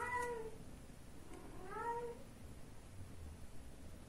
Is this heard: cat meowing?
yes